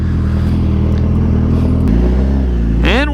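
A 2022 Suzuki Hayabusa motorcycle engine revs steadily up close, then drops in pitch before a sharp rising rev climbs near the end.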